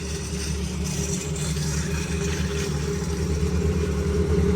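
A motorcycle heavily loaded with bags of goods runs steadily, a continuous low engine drone at close range with no talking.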